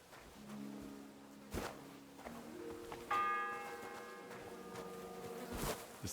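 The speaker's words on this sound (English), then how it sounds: "the sixth bell. Half the time is up." A church bell tolls in Kingdom Come: Deliverance 2 marking the sixth hour, with a few ringing strikes standing out over a steady low game ambience and faint buzzing insect-like background.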